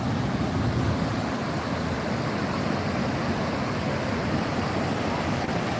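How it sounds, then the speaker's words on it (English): Ocean surf rolling onto the beach at Legian, Bali, a continuous broad wash of breaking waves with a touch of wind, steady and fairly loud, no talking. "So nice surf."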